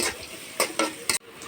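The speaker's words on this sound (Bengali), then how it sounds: "আমি ভালোভাবে পেঁয়াজটা ভেজে নেব।" Chopped onion fries in oil in a wok, giving a soft sizzle. A utensil scrapes the pan in three or four sharp strokes, close by, ending in a brief quiet pause.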